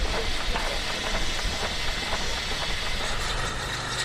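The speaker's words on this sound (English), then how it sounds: "This is Mr. Brown's once again, number 36" Steam engine number 36 runs at the Cumbria Steam Gathering, a loud continuous hiss and mechanical chuffing rumble held steady throughout, close by and with no talking.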